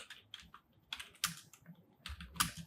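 Quick bursts of keystrokes on a computer keyboard while a mkdir command is entered in Git Bash, irregular clicky taps in short clusters, close and quiet, with no voice.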